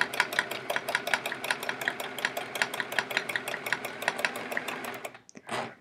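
Sewing machine stitching during free-motion quilting: a close, rapid, even run of clicking needle strokes over a low motor hum for about five seconds, then stopping, with a faint rustle at the end.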